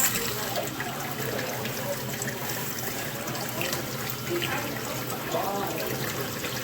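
Cold tap water trickles and splashes steadily over a plaster cast of a yellowstone specimen, a faint continuous running under a low background hum.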